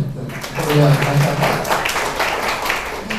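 An audience at an Islamic moderation seminar at a university claps in response to a call for applause, a dense round that starts after a brief pause, with a voice briefly audible early on.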